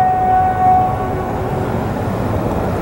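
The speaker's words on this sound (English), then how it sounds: "I heard the train coming." A train rumbles past at close range, with a low, continuous rolling rumble and a brief tonal whine near the start.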